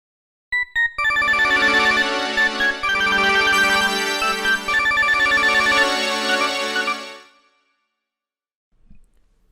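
Samsung SPH-A920 phone ringtone, a bright, busy electronic melody of rapid repeated tones that plays loudly for about six seconds and then stops abruptly, with no one speaking.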